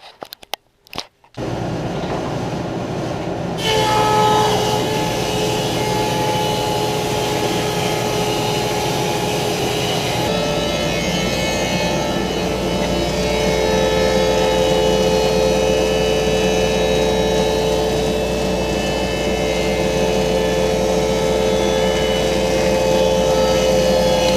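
A wood planer fitted with a new Shelix helical carbide cutter head runs boards through, a loud continuous whining roar with steady tonal hum that starts after a brief pause and holds for the rest, louder in the later half.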